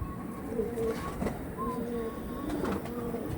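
Pigeons from a collection, a black-tailed breed, coo softly in short repeated low calls over a muffled background rumble, fairly faint and without clear speech.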